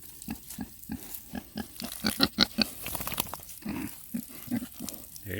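Repeated pig grunts and oinks in quick, uneven bursts, fairly close and loud, with some squealing in the middle and no talking.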